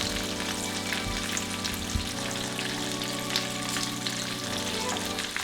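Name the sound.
chicken nuggets frying in oil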